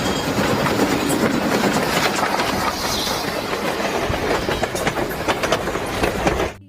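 Loud rumbling train passage with rhythmic clickety-clack of wheels on rails, continuous and close throughout before cutting off abruptly at the end.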